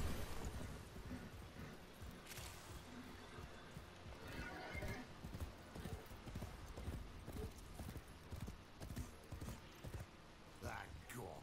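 Horse hooves clip-clop at a run in the Warframe Duviri game world, a steady rhythmic clatter close up, with a brief whinny, game music and voices running over it.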